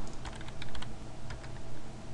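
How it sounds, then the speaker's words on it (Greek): Clicking keystrokes on a computer keyboard come in quick, irregular bursts at close range as a password is entered, with steady background noise underneath and no voices. "πληκτρολογούμε τους κωδικούς πρόσβασης, το email μας και τον κωδικό μας πρόσβασης"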